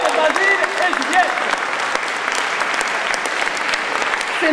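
An audience at a slam poetry event claps steadily, a dense sustained wash of applause with a few whistles or cheers mixed in.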